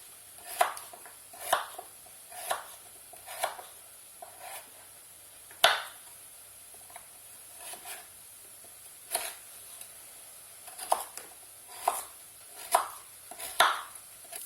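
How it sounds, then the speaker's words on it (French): Potatoes are cut into cubes on a cutting board, the knife landing in sharp, distinct chops spaced roughly a second apart over a quiet kitchen background. "je coupe les pommes de terre en cubes"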